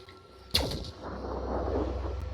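A single sharp, heavy shot cracks in the Phoenix Point game and is followed by a low, sustained rumbling tail.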